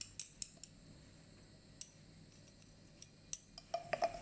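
A rod stirs blue copper sulfate crystals in a glass test tube, making scattered bright clinks and ticks against the glass over a quiet room hum, with a quick cluster of taps near the end.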